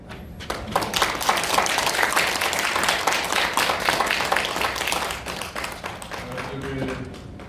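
A seminar audience at the National Assembly applauds after a lawyer's speech. Dense, steady clapping fills the room for several seconds, close and fairly loud, then thins slightly toward the end.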